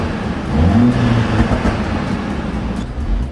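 A Mercedes-AMG CLA45S with 4MATIC all-wheel drive roars loudly and steadily under acceleration, its engine note climbing briefly in pitch before holding a dense, throaty drone, with no voices.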